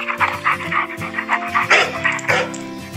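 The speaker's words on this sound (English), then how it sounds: "D for dog." A dog pants in quick rhythmic bursts with a few short yips and whimpers, close and clear over soft background music.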